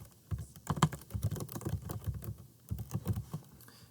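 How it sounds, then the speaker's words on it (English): Close, clicky keystrokes patter on a computer keyboard in uneven quick bursts, with a short pause before another run of typing, no voices present. "And then I'm going to type in a description."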